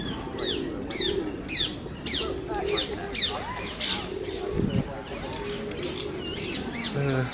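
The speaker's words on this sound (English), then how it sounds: "We have found some green parrots." Repeated sharp, squawking calls of green parrots ring out in bursts over a low hum in a London royal park, with faint cooing and a voice speaking in the background.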